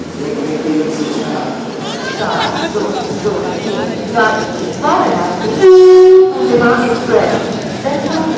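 The Buddha Purnima Express rumbles into a crowded station amid crowd chatter, then a loud sustained horn blast rings out before the murmur of voices resumes.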